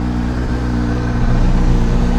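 Kawasaki Z900 motorcycle engine running close by at low rpm, a steady throbbing idle with a brief slight rise in revs, no voices.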